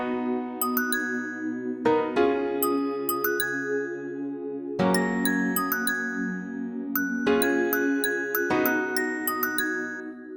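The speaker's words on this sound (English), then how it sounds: "when we take a listen to our pads and main keys right now and the bells" A beat built in FL Studio, modeled on a song, plays sustained pads and main keys under bright ringing bell notes. It moves in repeating phrases with clear chord changes and carries no voices.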